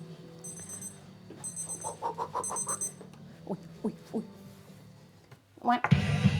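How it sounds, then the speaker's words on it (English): A kitchen timer alarm going off in a home kitchen, sounding a few bursts of high repeated beeping while people talk over it, then a loud clatter at the end. "We have 9 seconds until the timer goes off."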